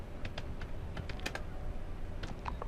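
Computer keyboard keys clicking steadily while text is entered in WordPad, a quick run of light, irregular taps close by over a low, constant background hum.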